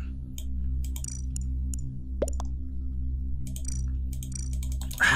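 Typing on a computer keyboard during an Among Us match: scattered bursts of light clicking keystrokes over a steady low electronic hum and game music.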